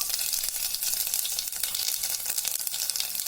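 Garlic, mustard seeds and cumin frying in hot oil give a dense, continuous close-up sizzle with crackling spatter, steady throughout and with no voices.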